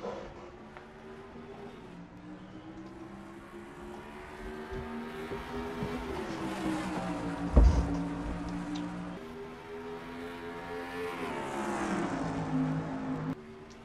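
Trucks race at Dover Downs in a racing video game, their engines droning and rising together, fairly faint, with pitch shifts as they gain speed and a sharp knock partway through.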